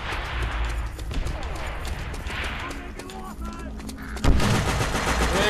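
Submachine gun fire from an MP40 in a World War II shooter video game, rapid bursts of shots layered over game ambience and background voices, with a louder burst near the end.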